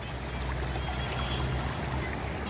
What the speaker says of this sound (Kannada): ಇಲ್ಲಿ ನೀರು ಹರಿತಾರೆ. ಇದು ಫಾಲ್ಸ್ದು ನೀರು